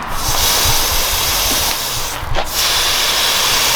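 A steady, close hiss of spraying water runs throughout, with a brief louder burst partway through.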